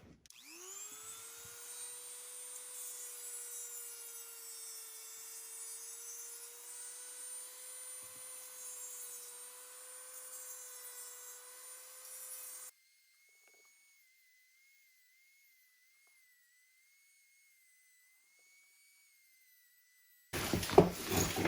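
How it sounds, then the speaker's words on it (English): A small high-speed Dremel rotary tool with a sanding drum, working a leather edge, whines steadily for several seconds, then cuts out, leaving a faint hum before a short burst of noise. "this can be nice to come in with a Dremel tool here with a little sanding drum on it"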